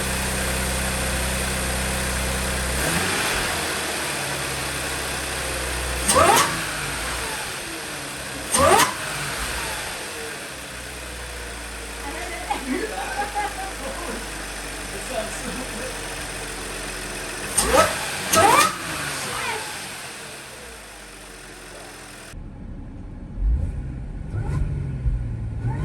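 An Audi engine with an aftermarket intake idles, then is revved in several sharp blips, each burst followed by a hollow suction rush. Occasional voices are heard between revs.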